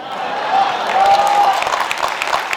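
Audience clapping at an award ceremony in Mumbai, a loud, steady wash of applause from a crowd that holds at an even level throughout.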